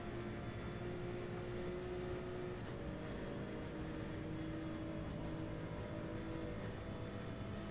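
A Porsche race car engine in the Gran Turismo 7 video game drones steadily at high revs, with a sustained tone that shifts pitch slightly partway through, a constant, moderately loud hum with no voices.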